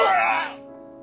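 A character in the game Happy Wheels gives a single rough cough or throat-clear. It is loud and close at the start, then fades into a quiet tail.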